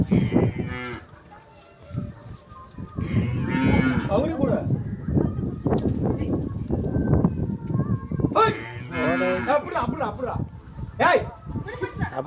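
Cattle lowing during a village Pongal celebration, several loud drawn-out moos near and repeated, with people talking in between and around them.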